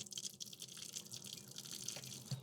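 Water runs steadily from a SimPure Q3 600GPD seven-stage filtration system, a continuous close hiss and splash with faint drips, alone without speech.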